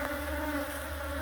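Bees buzz steadily in a close, continuous drone around a hive, a dense hum with no break across the brief moment and no voices.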